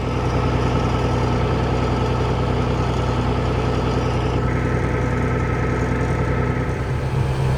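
A pump engine runs steadily while pumping out a lagoon on a cold, snowy Michigan winter day, a continuous droning idle with a slight shift in tone partway through, loud and close throughout with no talking.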